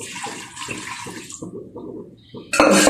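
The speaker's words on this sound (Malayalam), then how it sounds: "ഈ വെള്ളം കൂടെ ഇതിനകത്ത് ഞാൻ ഒഴിച്ചു കൊടുക്കുകയാണ്" Water splashes and trickles into a blender jar in several short pours, ending with a louder, denser rush of liquid.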